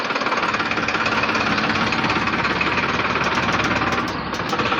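A tractor engine runs close by with a loud, steady knocking chug that barely changes, then dips slightly near the end.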